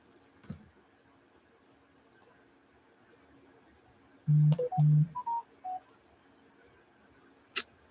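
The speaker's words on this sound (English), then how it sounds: "We're going to double dial you." A phone redials a number, producing a quick run of distinct dialing tones, two longer low tones followed by several short higher beeps, close and clear in a quiet room with faint clicks around it.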